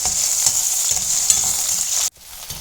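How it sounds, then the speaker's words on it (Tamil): Shallots, garlic and ginger sautéing in oil: a loud, dense, close hiss with faint stirring scrapes that cuts off abruptly near the end, leaving a quieter remnant. "ஒரு சின்ன துண்டு இஞ்சி அதையும் சேர்த்து நம்ம இப்போது வதக்கிக்கலாம்."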